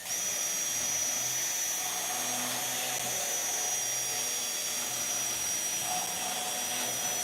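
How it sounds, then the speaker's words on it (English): A carbide deburring bit spins steadily inside a hole in a 25-inch flex-head half-inch drive ratchet, opening the hole up for a larger spring: a continuous high whining grind with a broad hiss, close and unbroken throughout. "he's using that carbide deburr tool to open up the hole so that we can fit this larger spring into it"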